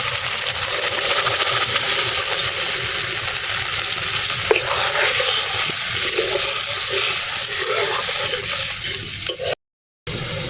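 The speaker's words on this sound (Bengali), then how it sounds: "এবারে সামান্য জল দিয়ে দেবো।" Water poured into a pan of fried spice paste for an egg curry hisses and sizzles loudly and steadily, a constant bubbling rush that carries on with no voices over it.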